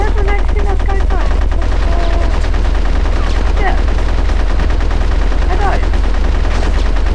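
Rapid bursts of gunfire in the video game Conker's Bad Fur Day, loud and continuous like machine-gun fire, with someone talking briefly over the shooting.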